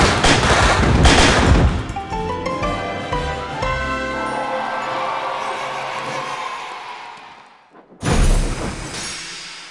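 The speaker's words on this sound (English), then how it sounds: "Those fireworks will light up the sky." Fireworks pop and crackle in a rapid loud burst in a Thomas & Friends train video game, followed by a bright musical chime that fades, then another sharp bang.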